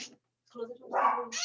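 A pet dog at home gives a few short barks and yips, close and brief, broken by silence, with voices nearby.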